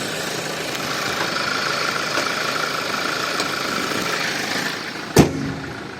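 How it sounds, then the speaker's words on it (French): A car engine idles steadily with a low, even rumble close by, ending in a sharp knock or thud near the end; nobody speaks. "À peu près le bruit du moteur, si ça peut vous aider."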